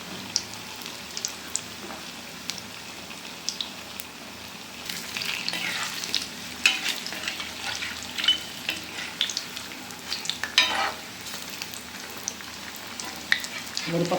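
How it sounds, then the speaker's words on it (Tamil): Potato bondas, tea-shop style, fry a few at a time in a little oil. A soft, close sizzle builds after a quiet start into a busier crackle with scattered sharp pops. "கொஞ்சம் கொஞ்சமாக போட்டு வைக்கிறேன்"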